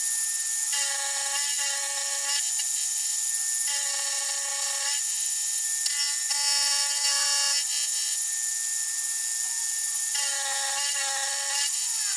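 A milling machine cuts metal for a cooler rack on a 2021 Ford Bronco Badlands, a loud steady whine with shifting tonal pitch that rises and dips in repeated cutting passes throughout.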